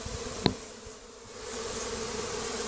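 Honeybees buzzing in a hive under a mobile home in Davenport, Florida, a continuous close drone of many bees with a sharp click near the start.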